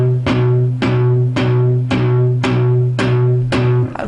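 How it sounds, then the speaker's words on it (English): Palm-muted electric guitar chord plucked seven times in a steady, even rhythm, each note short and choked off, played alone at close range. "just find a happy medium where it sounds like this"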